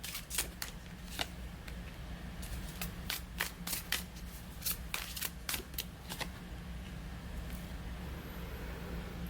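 Tarot cards being shuffled before a three-card pick, a run of soft riffling snaps and crisp flicks coming in irregular bursts, close and fairly quiet over a steady low hum.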